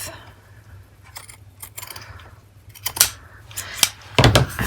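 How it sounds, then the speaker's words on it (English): Small, sharp scissors snip through lace trim while crafting, giving a series of crisp, close cuts that come in scattered clusters and grow louder and denser toward the end. "I'm going to trim the lace to the right"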